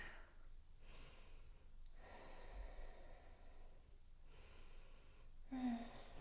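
A person doing beginner yoga at home takes soft, audible breaths in and out through the nose, several faint breathy pulses close to the microphone with quiet gaps between them.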